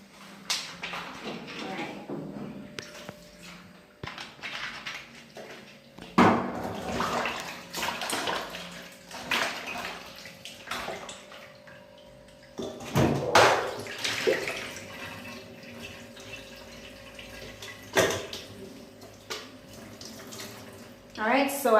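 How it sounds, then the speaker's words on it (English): Banga fish is washed with vinegar under a running tap, with water splashing and gushing in uneven bursts and quieter handling sounds in between. "I'll be washing it with a little vinegar."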